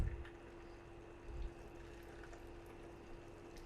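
Chicken pieces dropped into a frying pan of hot oil give a steady, faint sizzle that carries on evenly throughout, with a slight swell partway through.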